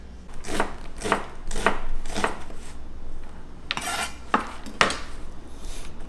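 Knife chopping onions, garlic and mushrooms on a board for tofu soup, a steady run of close, crisp thuds, about eight to ten cuts with short pauses.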